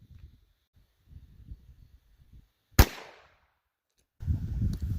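A single sharp .22LR Mini Mag pistol shot into a ballistic gel block cracks out loudly and alone, decaying quickly after the bang, with quiet rustling before it and muffled handling noise afterward.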